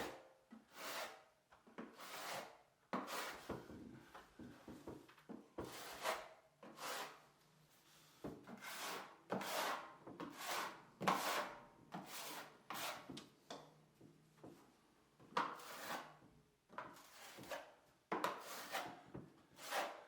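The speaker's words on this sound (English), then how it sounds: "this is just running like a fine skim just to try and smooth out the wall a bit" Plaster is skimmed thinly across a wall to smooth it, heard as a series of close, rhythmic rasping scrapes of a trowel, each stroke a short burst separated by brief pauses.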